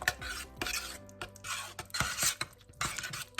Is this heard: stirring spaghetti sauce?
yes